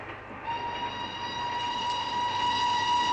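A passenger train rolls along with a steady loud rumble, joined partway through by a sustained high whistle-like tone that holds to the end.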